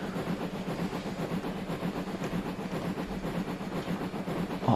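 Steam freight train from Train Simulator Classic on the Woodhead Route, climbing toward a summit, heard as a steady close rumble with a regular low chuffing beat throughout and no talk.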